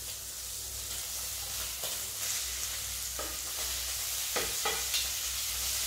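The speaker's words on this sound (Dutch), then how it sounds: "We bakken hem tot de randjes een beetje bruin worden." Beef steak frying in a pan, a steady crackling sizzle with a few brief louder spits and pops, fairly quiet and without talking.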